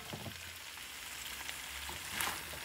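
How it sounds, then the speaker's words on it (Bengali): Potatoes frying in a pan for a North Bengal hilsa curry, a steady soft sizzle and crackle of hot oil with a faint stir, no voices. "এই মাছ তুলে এখন আলুগুলো দিয়ে দেই কষানোর জন্য"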